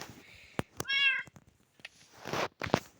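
A cat meows in a video game, a short run of clear, tonal mews standing out between brief clicks and bursts of game noise.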